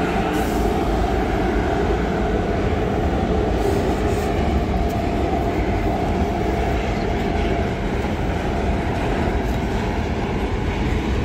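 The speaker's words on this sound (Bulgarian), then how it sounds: "И така, сега ето ще ви снимам един товарен влак." A freight train passes through Karlovo central station, a steady loud rumble of wagons with clicking wheels and faint metallic squeals continuing throughout.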